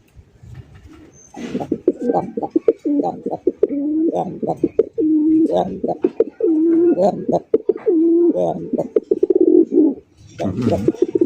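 A male pigeon coos repeatedly and rhythmically up close, its low throaty calls following one another with short pauses.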